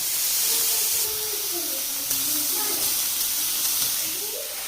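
Carrots hit hot ghee in a wok with a loud, continuous steamy hiss that lasts throughout, while a faint voice murmurs underneath.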